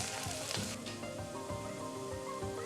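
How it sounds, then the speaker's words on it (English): Onions and garlic sweating in oil in a pan, a steady soft sizzle with faint crackles and occasional stirring, fairly quiet and close, with no talk. "Now the idea is to sweat the onions"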